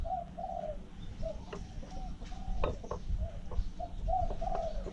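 Soft, repeated spotted dove coos in short phrases recur through the clip over a steady low rumble of background noise, with no talking.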